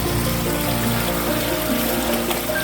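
River water rushing through old mill sluice gates on the River Darent, a loud continuous dense flow with churning texture, close and unbroken for the whole stretch.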